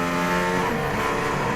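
Mercedes-AMG ONE hypercar engine accelerating hard with a race-car character, a loud, continuous rising roar with dense harmonics and no talking over it.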